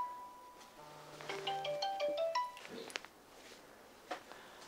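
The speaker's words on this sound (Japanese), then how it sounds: "母さんから電話だ。" A phone ringtone plays for an incoming call, a bright melodic sequence of stepped tones lasting a couple of seconds, moderately loud indoors with no talking.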